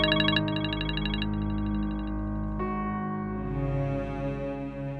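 A phone's electronic ringtone plays a repeating melodic tune, loud and close, continuing steadily without any voices.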